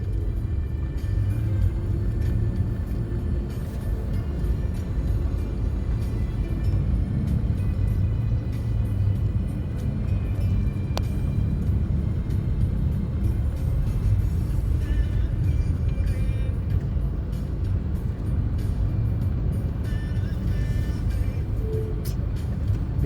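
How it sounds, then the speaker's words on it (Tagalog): Steady low engine rumble of slow-moving cars, buses and trucks on Marcos Highway in Manila, a constant near drone with a faint brief air-brake hiss partway through and no talking. "Medyo mabagal na yung takbo ng sasakyan."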